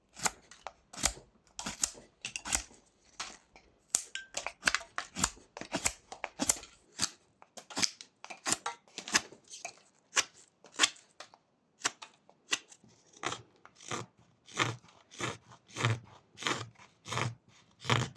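A knife makes rough cuts into a wooden dog figure being whittled, a long series of sharp, close scraping snicks at an irregular but steady pace with brief pauses between strokes.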